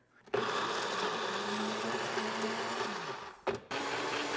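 A blender grinds a fake meat mixture, starting abruptly with a loud steady whirring drone, dipping briefly as the load shifts near the end, then resuming.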